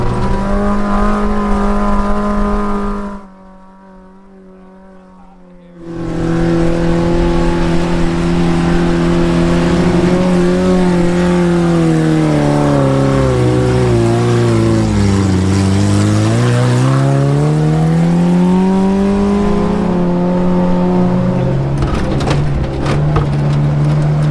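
Engine of a tiny off-road wrecker driving through sand dunes, a loud, close, continuous drone whose pitch dips and rises with throttle, briefly cutting out early on before resuming.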